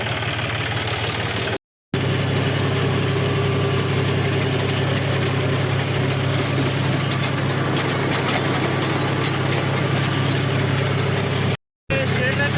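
Farm machine engine running out in a field, a loud steady low droning hum that continues almost throughout with two brief cuts, a voice faintly over it.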